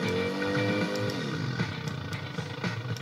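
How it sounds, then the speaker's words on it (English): An old motorcycle's engine runs loud and close, a rough roaring drone whose pitch drops partway through, then settles into an uneven idle with a few sharp knocks. "Listen to the noise the engine's making."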